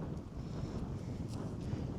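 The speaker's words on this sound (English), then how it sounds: "Wind picked up." Steady wind gusting across an open golf course on the back nine, a continuous low rush with microphone buffeting, alone and fairly quiet.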